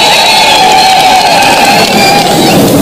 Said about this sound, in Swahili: Tafadhali shangilia deputy president wetu na makofi ya heshima.